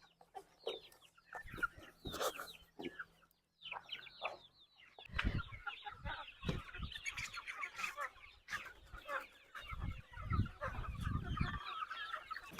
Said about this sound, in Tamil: தீவனம் கொண்டாந்தோடனேயுமே கோழியெல்லாம் பூரா எப்படி ரெடியாக அங்கங்கே இருந்தப்போ எல்லாமே ரெடியாக கேட்டுக்கிட்டே வந்துருச்சு பாருங்க